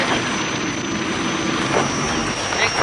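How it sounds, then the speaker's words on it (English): A helicopter engine and rotors produce a loud, steady roar and whine, constant throughout with no voices. "The royal family use helicopters to visit the more isolated parts of Thailand."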